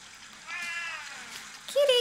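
A cat meows in a film scene, a short mid-pitched call near the end over a steady background of soundtrack and ambience.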